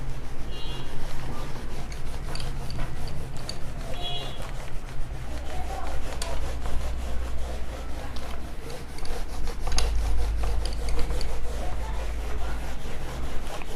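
Writing is rubbed off a board during a physics lesson, with a continuous scratchy rubbing that keeps up steady strokes for over ten seconds. It sounds close and fairly loud.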